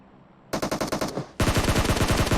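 Automatic gunfire from the PUBG Mobile video game comes in two loud, close bursts, a shorter string of rapid shots followed by a longer, faster rattle, with no talk over it.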